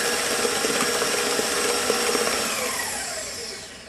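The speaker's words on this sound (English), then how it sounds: "Each time I'm whisking this up, I'm whisking it for, I'm gonna say 60 to 90 seconds for each egg that goes in." An electric mixer whisks eggs into gluten-free cheesecake batter, a steady whirring motor hum with faint beater rattle that winds down at the end, close and alone.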